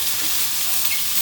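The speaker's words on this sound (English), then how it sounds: "I know that the sound-wise, this sizzling is a little loud and probably annoying" Vegetables sizzling loudly in a hot pan for a salad, a bright steady frying hiss close up with no voices.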